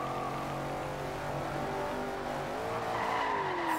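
Shelby Cobra 427 engine in the racing game Forza Horizon 2, revving hard through a drift with tires squealing, pitch holding and then climbing steeply toward the end.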